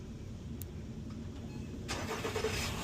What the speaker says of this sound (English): So you just hit the start button and then hold the engine start button.